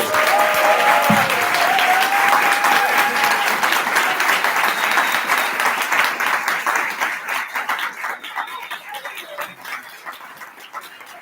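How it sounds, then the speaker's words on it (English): Applause rises from the audience at a general assembly, dense and sustained at first, then slowly thinning into scattered claps as it fades toward the end. "can we please have a massive round of applause for also these people?"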